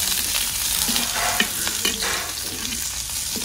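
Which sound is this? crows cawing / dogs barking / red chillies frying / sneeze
red chillies frying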